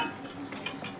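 A brief, quiet scrape of a utensil in a pan as fish pieces are turned for a Bengali fish curry with potatoes, with soft clinks over a faint background.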